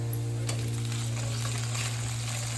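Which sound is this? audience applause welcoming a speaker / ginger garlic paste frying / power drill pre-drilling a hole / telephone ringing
ginger garlic paste frying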